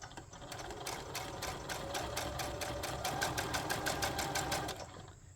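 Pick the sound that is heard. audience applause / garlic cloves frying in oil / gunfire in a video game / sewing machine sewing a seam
sewing machine sewing a seam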